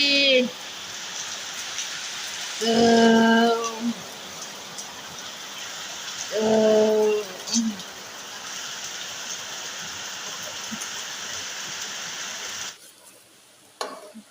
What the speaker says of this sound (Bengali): ঝমঝম ঝমঝম করে বৃষ্টি হচ্ছে অনেক জোরে বৃষ্টি হচ্ছে